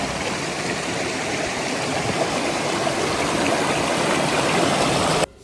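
A waterfall stream in a Vizag colony rushes with a loud, steady, close roar of falling water that continues unbroken and drops away at the very end.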